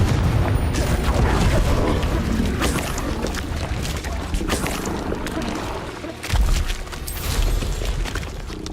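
Confringo fire spell blasts in the video game Hogwarts Legacy, a loud, sustained rumbling boom with whooshing bursts layered over busy game sound throughout.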